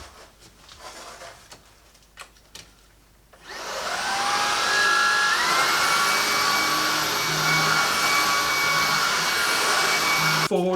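A Shark Anti Hair Wrap cordless vacuum cleaner (IZ201UK) starts after a few soft clicks and handling knocks, then runs loud and steady with a high whining motor hum that shifts pitch slightly and stays on until the end.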